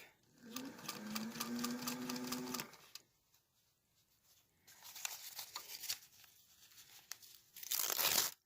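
Sewing machine stitching fabric laid on paper for a poinsettia piece, running in a steady rapid burst, pausing, then starting again in shorter runs, close and fairly loud with no talk.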